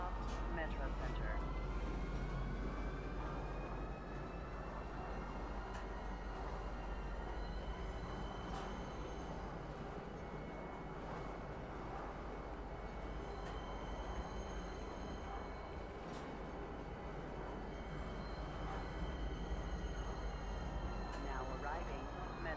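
Metro train arriving at Metro Center station in Star Citizen, a continuous rumbling rail roar with faint wheel squeal and hum, steady and fairly quiet, with a station announcement voice faintly present.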